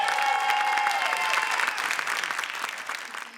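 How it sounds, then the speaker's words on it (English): Applause from an awards-ceremony audience: dense clapping from a crowd, strong at first and gradually tapering off over a few seconds. "If we can give her a hand of applause."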